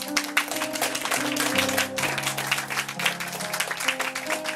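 An audience at a soirée applauds steadily for a guest, dense clapping running throughout beneath sustained music notes.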